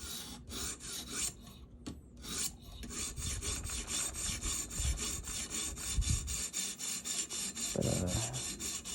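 A $10 Ozark Trail knife from Walmart drawn across a wet sharpening stone, a continuous gritty rasping in repeated back-and-forth strokes, close and steady, with no talk.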